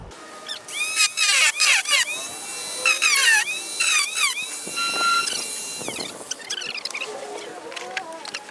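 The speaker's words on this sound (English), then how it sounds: "we're going to cut the aluminum with the grinder" An angle grinder running without its guard cuts aluminum, producing repeated high-pitched screeching bursts of varying pitch with short gaps between cuts.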